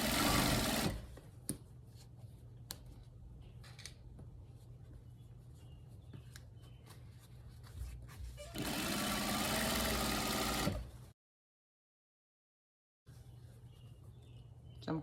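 A sewing machine stitches along the edge of an African print headwrap, its steady mechanical whir running in continuous bursts with a brief louder stretch and a pause of silence before stitching resumes.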